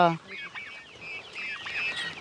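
Country chickens on a farm cluck and chirp steadily nearby for about two seconds, with a louder bird call right at the start and a busy chorus of overlapping clucks after it.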